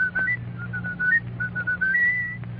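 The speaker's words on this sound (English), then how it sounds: "Now, look, can you whistle it?" A man whistles a short tune on a 1940 NBC radio show, a clear, steady run of melodic notes over a low broadcast hum.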